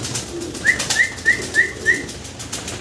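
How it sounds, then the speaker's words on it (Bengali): A pair of tiger-coloured short face pigeons coo nearby, five evenly spaced soft calls in quick rhythm against a quiet background. "টাইগার কালারের ভিতরে একজোড়া শর্ট ফেস কবুতর"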